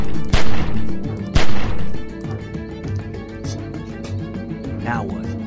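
Two sharp, loud gunshots ring out early in a tense scene from The Walking Dead: 400 Days video game, followed by busy game noise and clattering.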